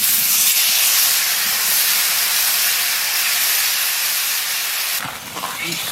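Water poured into a hot pan of fried potatoes sends up a loud, close steam hiss that rushes on for about five seconds and then cuts off, followed by a brief clatter.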